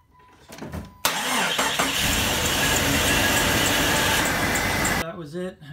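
A 2000 Jeep Cherokee XJ engine fires up after a brief crank and roars loudly at a steady idle for about four seconds before cutting off, with faint talk around it.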